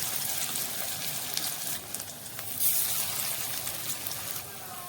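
Dollops of coriander leaf fritter batter drop into hot oil and fry with a bubbling, watery hiss, close and fairly loud, surging briefly partway through.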